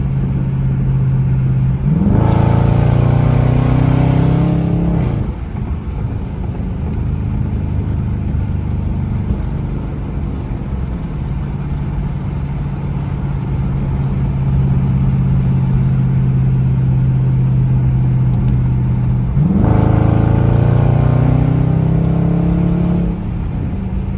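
A Dodge Charger R/T engine drones loud and close during a canyon drive, with a hard revving acceleration early on, a long steady cruising rumble, then another rising pull near the end.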